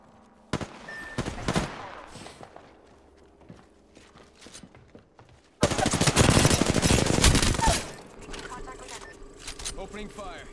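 Gunfire from Apex Legends on PS4, with scattered sharp shots early, then a loud sustained burst of rapid automatic fire over several seconds that tapers off, alongside other game sounds.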